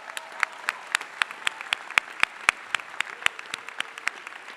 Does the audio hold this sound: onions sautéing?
no